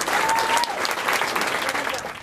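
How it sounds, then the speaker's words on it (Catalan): Theatre audience applause for a guest at a live comedy show, dense clapping from a full crowd that stays strong, with a brief voice or whistle near the start, then eases slightly toward the end. "el senyor Carles Esteve, per l'amor de Déu, un aplaudiment."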